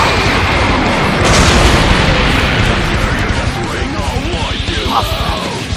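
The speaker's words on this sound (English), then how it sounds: "Pellet gun!" Pellet gun blast effect in a fan-made Dragon Ball versus Sonic battle, a loud sustained roaring boom with crackling bursts that fill the whole clip.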